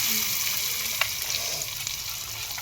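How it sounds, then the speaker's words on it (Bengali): Dried red chilies and tomatoes frying in a good amount of hot oil, a steady hiss of sizzling at moderate level with small crackles, faint household sounds in the background. "এই যে গাইস শুকনো লঙ্কা দিলাম, এতটা তেলে টমেটো দিয়ে দিলাম"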